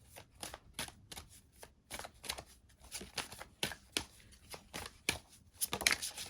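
Tarot cards for a Santa Muerte reading are shuffled close up in a steady run of quick riffles and flicks, faint overall, with no talking.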